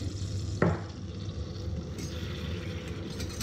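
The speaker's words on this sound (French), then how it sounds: "Je vais remuer pour incorporer ma farine dans le beurre" A spoon or whisk stirring flour into melted butter in a pan, near and steady. One sharp scrape comes early, then a soft continuous scraping and light sizzle carries on to the end.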